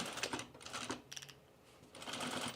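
Faint, quiet sewing machine back-stitching on denim jeans, with short bursts of rapid mechanical clicking separated by a brief pause.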